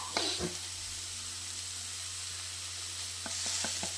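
A spoon stirring grated radish thoran with salt in a pan, giving soft scraping and a low sizzle, with a few sharp clinks of utensil against the pan near the start and again toward the end.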